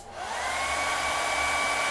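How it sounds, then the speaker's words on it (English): A hair dryer whirs on and holds a loud, steady high-pitched blowing hum, with no talking. "Hair dryer. Go."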